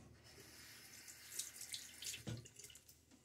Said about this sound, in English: The tap water is a little chilly.